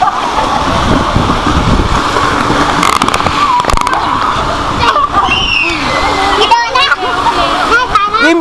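A child splashes while swimming, sending repeated bursts of sloshing and spattering water close by, mixed with voices.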